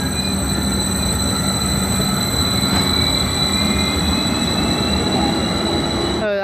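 A train at a railway station platform, loud continuous rumble and rolling wheel noise with sustained high squealing tones, ending in a rising metallic screech.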